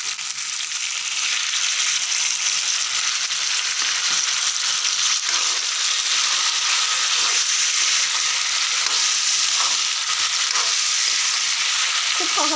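Mutton curry in a pan with water being added, Bihari style: a loud, steady, bright frying sizzle and hiss that holds unbroken throughout, with faint stirring clicks beneath.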